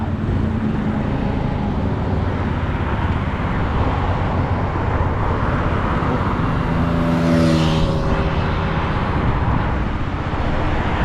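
A 125cc motorcycle accelerates on an open road, its engine a steady broadband roar under heavy wind and road noise, with a brief rising tonal swell near the end as the revs climb.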